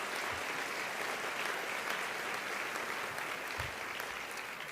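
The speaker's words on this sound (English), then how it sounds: "Let's give them a round of applause" An audience at a 2023 State of the City speech applauds, with sustained, even clapping from a large crowd that holds steady throughout.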